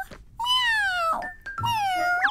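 A cat meows twice indoors at home, each call long, clear and close, drawn out and falling in pitch, with a short pause between them and no talking.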